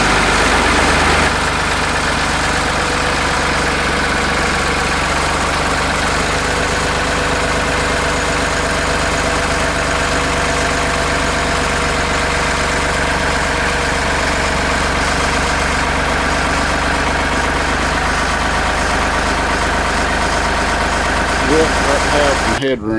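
An old tractor's engine idles steadily nearby in a work area, a loud, low, constant chugging hum that runs unchanged for over twenty seconds.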